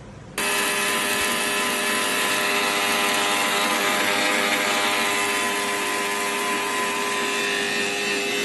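A blender grinds roasted whole spices into garam masala powder, starting abruptly and running as a loud, steady whirring roar with no talk over it.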